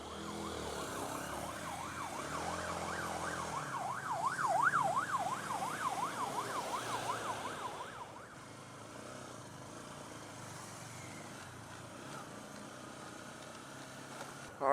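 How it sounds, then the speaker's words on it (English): An emergency vehicle's wailing siren rises and falls behind a rider in road traffic, fairly distant for about eight seconds before fading into the low hum of traffic and engine. "I hear a siren. The siren, yep. It's actually behind us."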